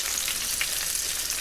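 Chicken frying skin side down in a pan, a dense, even crackling sizzle heard up close without pauses or voices.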